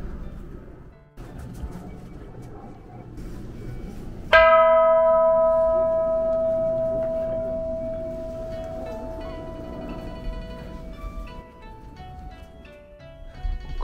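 A temple bell in Nagaokakyo, Kyoto is struck once, ringing out with a bright sustained tone that slowly decays over many seconds, preceded by faint background noise.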